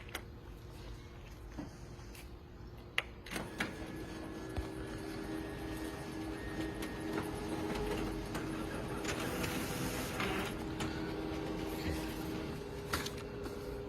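A Canon imageRUNNER ADVANCE 4235/4245/4035/4045 office copier starts a print run, whirring and humming steadily with mechanical clicks and a rising rolling feed noise, heard close in a quiet room.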